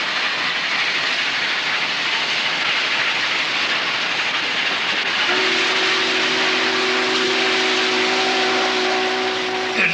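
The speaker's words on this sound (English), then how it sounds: "running a steam engine is a full-time business." The N&W 611 steam locomotive runs with a loud, steady hiss and rumble throughout, and a sustained steam whistle enters partway through and holds to the end.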